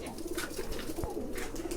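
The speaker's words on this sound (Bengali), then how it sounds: "এখানে আমার বাকি কবুতরগুলো মোটামুটি সব মানে আস্তে আস্তে সন্ধ্যার সময় সব ঘরে চলে আসতেছে" Pigeons coo softly in a loft at evening as the birds return home, with low repeated coos and a faint wing flutter close by.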